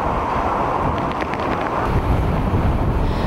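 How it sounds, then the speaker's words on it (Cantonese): Strong typhoon wind with rain at night in Macau during a severe tropical storm, a steady loud roar of gusting wind buffeting the microphone with a continuous rushing wash of rain, no voices. "入夜之後，澳門開始颳起狂風驟雨，就算有大遮都冇乜用。"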